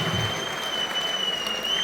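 Audience applause at a Telugu film music event, a steady dense clapping from a crowd that holds at an even level for the whole two seconds, with a faint thin tone running through the background.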